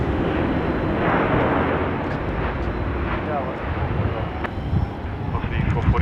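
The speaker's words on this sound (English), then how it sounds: "Shortly it's going to be 7523 on screen now, which is our Qantas EFR freighter" A Qantas freighter jet taxis at Sydney Airport, its engines producing a loud, steady roar with some wind buffeting on the microphone, and a voice talks over it.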